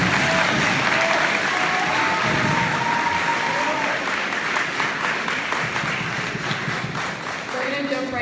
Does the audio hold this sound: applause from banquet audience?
yes